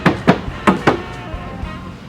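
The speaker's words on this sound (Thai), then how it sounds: "ไปดูรอบคันลองเคาะดูหน่อยนะครับฟังเสียง" Knuckles rap on the body panels of an Isuzu D-Max common-rail pickup truck, four close hollow knocks in two quick pairs, followed by quiet room noise.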